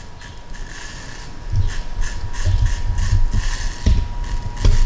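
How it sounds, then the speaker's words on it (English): An Andis Master hair clipper, lever all the way up and guard open, rubs gently against a head during a curly high fade, giving a close mechanical buzz with irregular scraping and clicking bursts. "Right now I'm using the Andis Masters with the lever all the way up, and I'm gently rubbing against the head"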